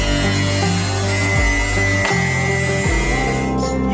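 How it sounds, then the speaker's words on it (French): An angle grinder notches the corners of a steel sheet cut for a giant box, giving a loud, continuous whine whose pitch drops and recovers several times as the disc bites into the metal. "Les coudes sont entaillés à l'aide d'une meuleuse."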